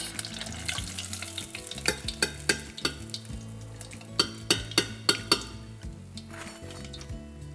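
Battered fish fries in hot oil for fish and chips, a soft continuous sizzle beneath a series of sharp metallic clinks and knocks from utensils against the pan, close and fairly quiet.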